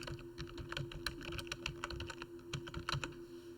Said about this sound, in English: In the caption field, press the space bar and type dental coverage.